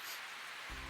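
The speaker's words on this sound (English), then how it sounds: "Rained down like a bucket was overturned." Heavy downpour sound effect from a visual novel game, a dense hiss of rain on surfaces, faint and steady, with a low hum joining near the end.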